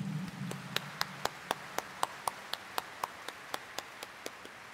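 A congregation at Quiapo Church during Thursday Mass claps in a slow, evenly spaced rhythm, about a dozen and a half distinct claps ringing through a reverberant interior, fairly faint and unaccompanied by talk.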